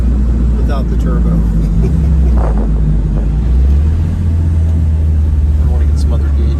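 A Porsche 924S drives on the road with a loud, low engine drone that drops and climbs through gear changes, while someone talks over the cabin noise.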